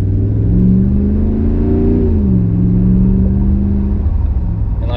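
A Dodge or Jeep engine fitted with an AMP'D throttle booster in sport mode accelerates under light pedal, a loud close rumbling rev that climbs, dips briefly and holds steady without any talk.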